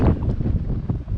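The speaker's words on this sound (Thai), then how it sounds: "ได้ยินเสียงลมไหม" Wind gusting outdoors on a mountain summit, a loud, steady low roar buffeting the microphone throughout with no speech.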